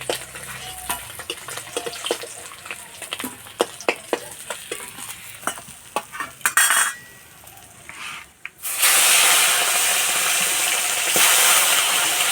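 Katla fish frying in oil: scattered crackles and spatters with occasional stirring clinks, then a loud, continuous sizzle surges up near the end and holds steady.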